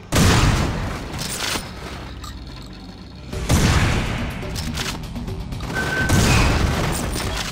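Dual-wielded shotguns fire in a first-person shooter on Xbox 360, heavy booming blasts with long rumbling tails, roughly three big shots spread evenly across the stretch, loud and close with no talk.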